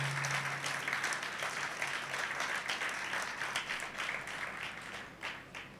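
A church congregation at a Sunday service claps together in steady, moderately loud applause lasting several seconds, sustained and even with no speech over it.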